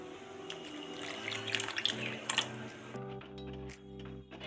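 Hot water is poured into a pan of elephant foot yam curry, a steady splashing pour for about three seconds that then thins to a quieter trickle.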